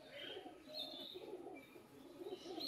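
A pair of pigeons in a small cage coo softly and repeatedly in low, rolling phrases, close by, with faint background hiss.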